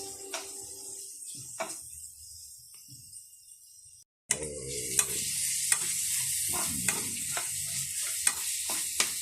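Tomato and onion sautéing in a pan with pork for ginisang mongo: a quiet stretch with a few spoon taps gives way to a loud, steady sizzle punctuated by sharp stirring clicks.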